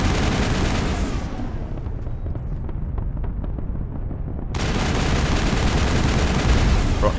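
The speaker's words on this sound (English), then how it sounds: "About to shoot." Rapid gunfire in a Mass Effect firefight against Batarians, a dense rattling barrage that fills the scene continuously and swells louder in the final seconds, with no voices over it.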